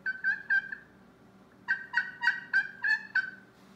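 A high-pitched aluminum turkey call used for turkey season sounds three sharp yelps, goes quiet for about a second, then runs six more bright yelps. The whole sequence is loud and close, with no talking.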